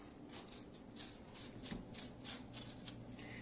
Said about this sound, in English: Our next ingredient, lemon. Okay. I'm going to go ahead and zest this.